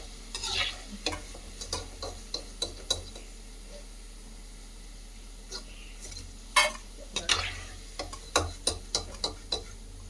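Wheat and onion pakoda fry in hot oil with a soft, continuous sizzle, broken by sharp scrapes and clinks of a utensil stirring and lifting the fritters from the pan.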